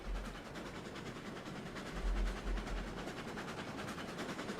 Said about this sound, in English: It's a good sized train.